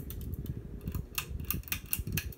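A 42-inch Canarm Catalyst VI ceiling fan from around 1999 runs with a heavy wobble, giving a steady low rumble with rhythmic ticking and clattering pulses, close and continuous.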